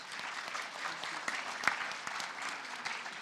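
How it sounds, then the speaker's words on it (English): An audience at an FFA banquet gives a short round of steady applause, dense clapping at moderate distance with a few louder individual claps standing out. "Let's give Marshall a round of applause for his efforts."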